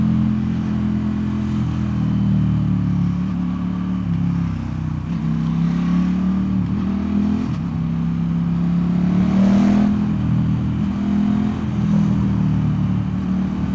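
A KTM 1290 Super Duke R motorcycle riding and lane splitting in traffic, with a loud, steady engine drone and wind rush throughout, rising and falling slightly with the throttle.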